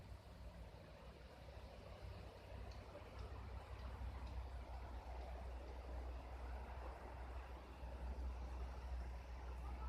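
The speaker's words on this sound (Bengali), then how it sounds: "হ্যাঁ, জল পড়ছে, জল পড়ছে।" A waterfall hidden inside a forest gives off a faint, steady rushing roar from a distance, continuous and unbroken, with no one speaking.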